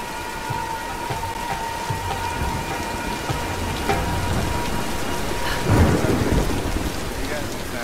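A heavy rain and thunderstorm from the Tomb Raider (2013) video game: dense, steady rainfall patters on surfaces while thunder rumbles low, swelling to a louder crack near the end, with a faint steady tone underneath and no voices.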